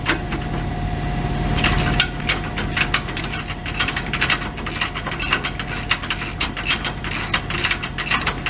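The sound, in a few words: ratchet removing exhaust bolts on a Peterbilt truck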